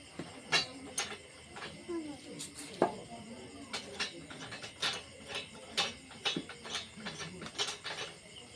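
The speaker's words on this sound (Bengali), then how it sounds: "এই ক্যাম্পিস আমি টাইট দিচ্ছি" A metal clamp is tightened in a quick series of ratcheting clicks and mechanical ticks, close and fairly quiet, with short uneven gaps between turns.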